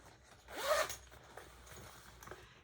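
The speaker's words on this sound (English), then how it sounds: "You have a top zipper closure." A bag's top zipper closure being drawn in one quick, close pull of about half a second, then quiet handling.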